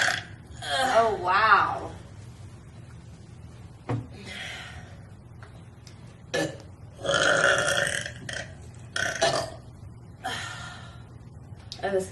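Loud, drawn-out burps erupt in a classroom setting between teacher and student, several long belches rising in bursts across the stretch with gasps and short exclamations, and people talk around them.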